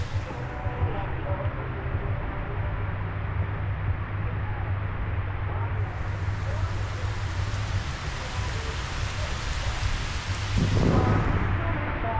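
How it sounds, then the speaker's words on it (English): Rain falls outdoors during a kayaking trip on Floyds Fork, a steady dense patter and hiss with wind noise, continuous throughout and swelling slightly near the end, with some talk underneath. "Well, it's raining."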